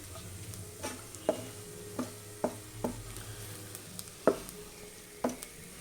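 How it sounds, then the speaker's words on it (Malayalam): Chicken stirred in a pan with garam masala and pepper, a soft sizzle underneath and a series of quiet scraping, knocking strokes at irregular intervals, with no voices. "നന്നായിട്ടൊന്ന് മിക്സ് ചെയ്യാം"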